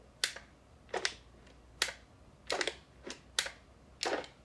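Sharp, dry clicks from a loose part on a camera rig for a BMPCC4K, eight or so isolated ticks spaced irregularly about half a second apart, close and fairly quiet with no talk.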